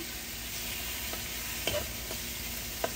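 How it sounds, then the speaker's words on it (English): Meat sears in a wide, large-surfaced pot for Guyanese pepperpot, giving a steady close sizzle broken by a few sharp clinks and scrapes of stirring. "let's sear this up nicely"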